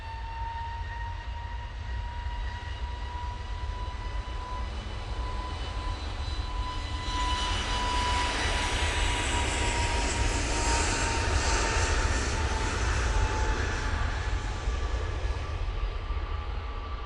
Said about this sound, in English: And off to Grotti they go with that 320neo